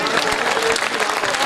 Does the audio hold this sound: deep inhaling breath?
no